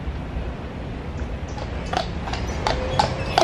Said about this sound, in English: Here comes one of the beautiful horses we saw earlier clomping down.